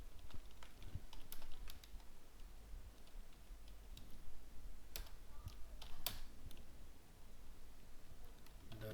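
Computer keyboard typing while writing PHP code, with a steady stream of soft, close key taps and a few sharper clicks over a constant low background hum, no voices.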